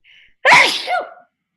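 A single loud, close sneeze bursting out suddenly, with a brief faint sound before it and quiet afterward.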